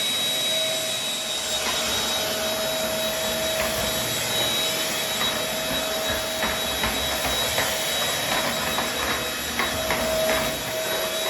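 A vacuum cleaner sucks loose hair off a floor during household cleaning, a loud, continuous whooshing drone with a steady whine and small rattling pickups, close and uninterrupted throughout.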